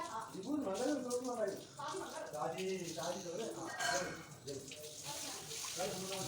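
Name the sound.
detergent water poured into a bucket of cloths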